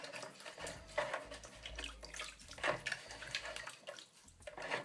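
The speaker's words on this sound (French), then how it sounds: "pour nettoyer le filtre, vous le pressez dans l'eau" A sponge from an aquarium's internal filter is squeezed and worked in tank water, giving continuous sloshing, squelching and splashing that swells and fades in waves.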